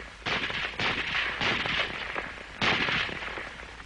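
Several loud M1 Garand semi-automatic rifle shots ring out close by, spaced irregularly about half a second to a second apart with a longer pause before the last, each blast trailing into reverberant echo.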